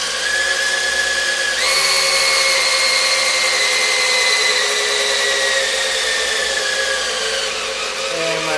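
A cordless drill spins the oil pump of a 1973 Corvette C3 Stingray engine, giving a loud, steady whine that shifts up in pitch early on and slowly sags toward the end.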